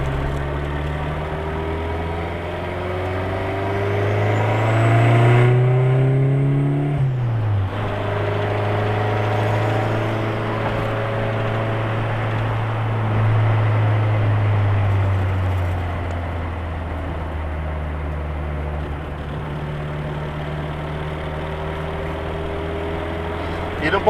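Car engine with Elba Street fuel injection revs up, then drops back smoothly toward idle as the injection cut-off engages, a steady low hum that swells and falls while someone talks over it.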